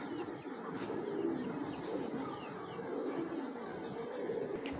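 Green-necked pigeons coo in a steady, continuous murmur, with soft chirps scattered through and no voices.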